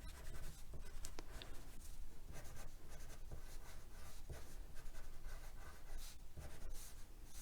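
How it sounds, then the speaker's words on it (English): A crayon scratches and scrubs steadily across paper, close and quiet, with a continuous rough texture of short strokes and no voices. "crayons are really easy to draw with"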